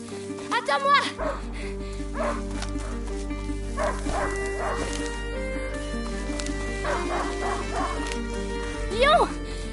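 Hunting dog in the video game A Plague Tale: Innocence barking and whimpering in a few short bursts, with yips near the start and end, over a steady game ambience and spoken dialogue.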